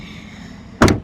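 The tailgate of a 2018 Honda HR-V SE is shut with a single solid thud near the end, following a quiet stretch of low background noise.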